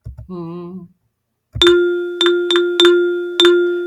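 A short sung or hummed tone is followed by a series of bright electronic ding tones in an uneven rhythm of quarter and eighth notes, some spaced closely in pairs.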